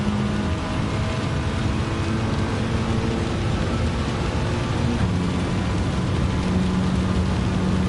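Steady rain hisses in Gran Turismo 7 during a Gr.4 race with a Mitsubishi, a dense wash of noise that stays constant throughout, with engine drone blended underneath.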